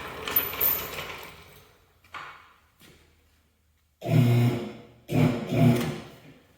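During a Cub Cadet 782 diesel motor pull, a jack is worked with scattered mechanical clicks and scrapes, then a few louder clunking, ratcheting bursts near the end, close by with no talking.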